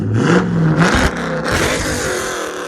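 A 2010 Dodge Challenger SRT/8 with a 6.1L HEMI V8 and straight-piped dual exhaust revs hard several times close by, sharp throttle blips rising and falling before settling into a rumbling idle.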